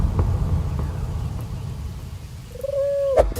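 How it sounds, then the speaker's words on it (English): A single low, drawn-out coo from a New Zealand wood pigeon rises briefly near the end over a rumbling outdoor background, ending with a sharp knock. "This is a New Zealand wood pigeon version of saying"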